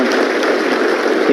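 Applause from an audience at a stage event, a steady dense wash of clapping that fills the whole moment without any voices over it.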